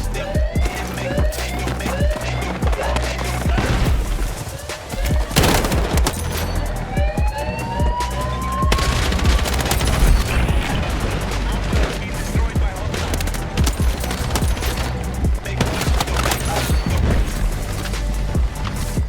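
Kord 6P67 rifle fired in Battlefield 6, loud rapid bursts of gunfire mixed with other battlefield shooting, explosions and whistling effects, continuous throughout with no gaps.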